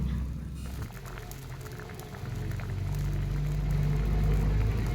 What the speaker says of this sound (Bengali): মাছগুলো ঝোলের সঙ্গে মিশিয়ে আবারও 1 থেকে 2 মিনিট ফোটার জন্য অপেক্ষা করতে হবে।